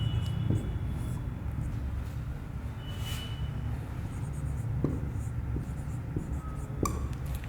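A pen scratching across paper while Hindi shorthand is written by hand, soft close strokes and faint rustles over a steady low background hum, quiet and without speech.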